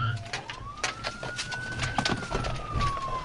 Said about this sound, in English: Why does the police car sound like it's falling apart?